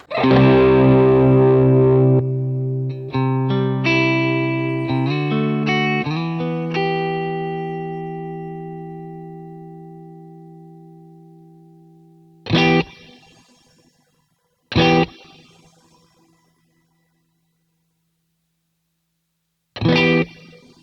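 A guitar played through the shimmer reverb of a Fender Tone Master Pro, a sustained chord swelling with bright metallic overtones and a long tail, followed by short strums that ring out.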